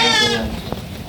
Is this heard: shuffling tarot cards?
no